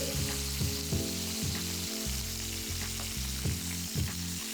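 Lamb searing in a hot pan, a loud continuous sizzle and crackle with small spitting bursts, close up and steady throughout without any talking.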